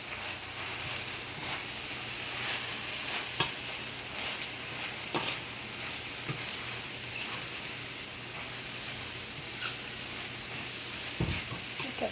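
Collard greens stirred and mixed in a pan while cooking, a steady soft sizzle with intermittent scraping and clacks from the utensil, close and continuous, with no talking.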